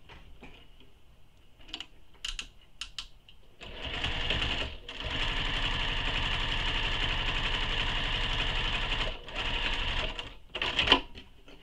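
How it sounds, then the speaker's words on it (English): Sewing machine top stitching along a seam on a sling pack pocket: one long steady run of close, loud rapid whirring, bracketed by a short burst and faint clicks. "we're going to top stitch along this edge where the seam is"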